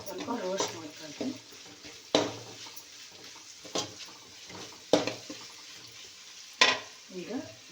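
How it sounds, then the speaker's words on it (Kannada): Ginger garlic paste is roasted and stirred in a pan for rice bath, with a soft sizzle beneath repeated sharp clinks and scrapes of a spoon against the pan, close by. "ಶುಂಠಿ ಬೆಳ್ಳುಳ್ಳಿ ಪೇಸ್ಟು ಹಸಿ ಹೋಗೋವರೆಗೂ ಸ್ವಲ್ಪ ರೋಸ್ಟ್ ಮಾಡ್ಕೊಳ್ತೀನಿ."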